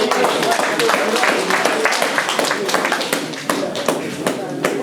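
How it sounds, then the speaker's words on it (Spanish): Dense clapping from a festive crowd at a family carnival celebration in Churín, steady and close for the full stretch, with voices mixed in underneath. "Fuerte de aplauso"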